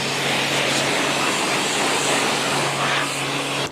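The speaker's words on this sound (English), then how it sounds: "when I blast it with this jet wash, it'll take all the bodywork with it" A jet washer blasts water onto an old Subaru car, a loud, steady roaring hiss that holds constant for a few seconds before cutting off abruptly.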